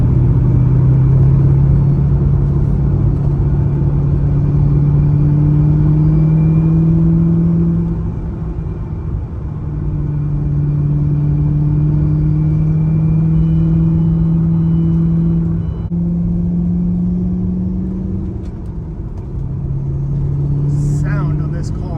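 An American supercar's engine on a hill country road rumbles loudly and keeps rising in pitch as it accelerates through several gears. Each upshift drops the tone, and the run is heard from inside the car.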